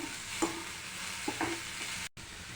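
Sliced onions with a little salt fry softly in a pan for samosa filling, a steady low sizzle broken by a few short stirring scrapes, with a brief dropout near the end.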